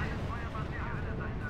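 Artillery fire in the strategy game R.U.S.E., a dense, continuous low rumble of shelling and blasts running steadily throughout, with game effects layered on top and speech-like chatter mixed in.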